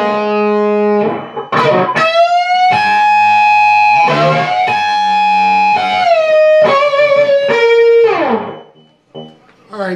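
A distorted electric guitar plays the opening measure of a solo, a string of bent, sustained lead notes and slides, loud and upfront, ending with a short pause and a few scrappy notes.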